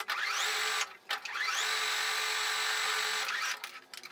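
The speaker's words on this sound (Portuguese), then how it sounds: "Vou usar essa máquina aqui, que é a outra máquina que tá preparada pra bordar." A sewing machine set up for embroidery stitches on bias binding, a steady whirring run that rises, briefly stops, then runs again in long even bursts, close and loud.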